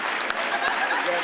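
An audience at a school gathering honoring teachers claps in a short, dense burst of applause, fairly loud and steady, with a couple of sharper claps standing out.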